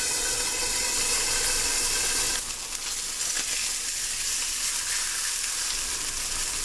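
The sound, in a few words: thin steak sizzling in a pan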